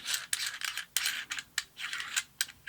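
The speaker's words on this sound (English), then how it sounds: "you just unscrew the pommel" Light metallic clicks and scrapes, a few sharp ticks in quick succession as a metal lightsaber pommel is unscrewed and handled close by.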